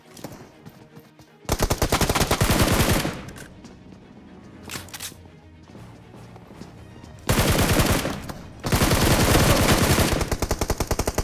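Automatic gunfire in the BGMI battle royale game at a military base, long rapid bursts of shots separated by quieter gaps with scattered single reports, loud and close.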